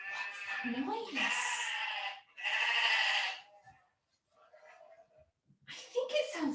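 Several loud, wavering bleats of a sheep, close by, come in separate bursts with short pauses between them.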